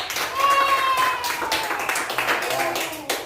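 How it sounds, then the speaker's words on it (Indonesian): Students in a classroom clap for all the project groups, a scattered, moderately loud patter under a voice talking through most of it. "Sekarang beri tepuk tangan untuk semua kelompok."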